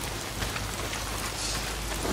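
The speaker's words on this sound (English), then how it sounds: "Damn rain. If it's not the freaks, it's the goddamn rain." Steady rain pours down in the open-world zombie game Days Gone, a dense, even hiss of drops striking surfaces that holds at the same level throughout, with a faint low rumble underneath and no voices.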